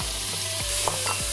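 Chopped onion fries in olive oil in a Moulinex Cookeo, a continuous close sizzle punctuated by a few scraping stirs.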